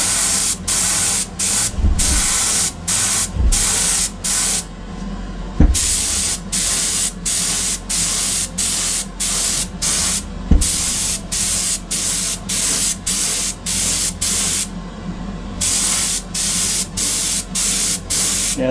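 An airbrush sprays a base coat onto Greek-style vases in short repeated bursts of hiss, close and loud, with brief pauses between passes.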